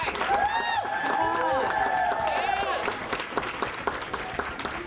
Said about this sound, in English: let's give them all a wonderful applause